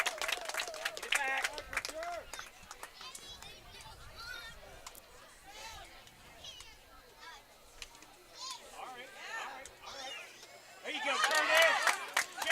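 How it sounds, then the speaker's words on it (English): Spectators at a varsity high school soccer match applaud a player, scattered clapping and crowd chatter that swells into a louder round near the end, with a commentator talking over it. "the fans here giving Thurston a round of applause for his playing so far"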